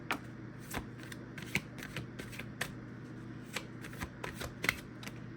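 Tarot cards being shuffled by hand, a rapid series of crisp riffling snaps and flutters repeating in short bursts throughout, close and fairly quiet, with no one talking.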